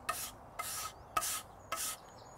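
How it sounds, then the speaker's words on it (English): A stiff brush scrubs dust off the back of a natural stone patio slab in four steady, rasping strokes, evenly spaced and close by, with no talk. "You can either just rub it off, a stiff brush is the best method"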